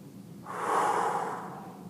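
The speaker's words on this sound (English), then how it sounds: "Everybody take a big deep breath." A group of people in a classroom draw in a big deep breath together, a broad airy rush of inhalation swelling after a quiet start and holding steady to the end, with no talking.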